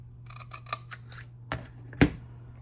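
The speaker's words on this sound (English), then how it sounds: "let's just snip this off" Scissors snip through paper for a handmade Christmas peekaboo card, giving a few quick close-up cuts and then two sharper, louder snips, heard alone without talking.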